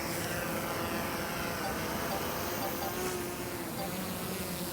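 A remote-controlled drone takes off, its rotors making a steady, dense, buzzing whir that stays constant and fairly loud throughout.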